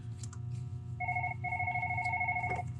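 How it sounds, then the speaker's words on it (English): A telephone rings in a workshop during repair of a Luxe ice machine, two clear electronic ring bursts, moderately loud over steady background machine hum. "My phone's ringing."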